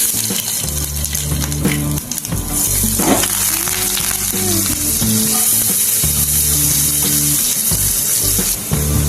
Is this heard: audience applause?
no